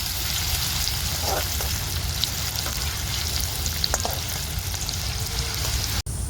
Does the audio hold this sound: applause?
no